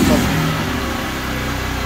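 A motorcycle engine revs loudly close by, its rumbling roar easing slightly and holding steady.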